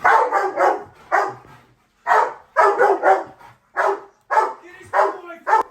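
A Rottweiler barks in loud, repeated bursts during a home invasion training drill with a client, the barks close and clustered in volleys with short pauses between them.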